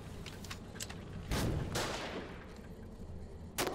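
Gunfire in the Foxhole war game, with several sharp shots and a heavier burst echoing over a constant battlefield din, fairly distant and muffled.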